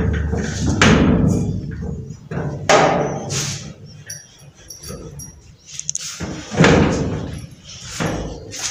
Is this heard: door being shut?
yes